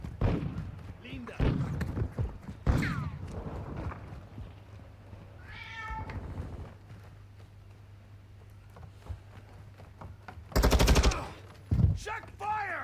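Gunfire in Call of Duty Modern Warfare II, scattered sharp shots and a short loud automatic burst near the end, mixed with game voice callouts and a cat meowing.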